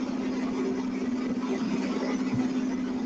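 An articulated tractor steering through a field, its engine running with a steady mid-pitched drone and a constant hum, close and even throughout with no talking.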